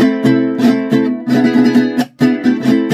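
Vihuela strumming with rapid rolled rasgueo flourishes between the chord strokes, busy and rhythmic, with a brief gap near the end before the strumming resumes.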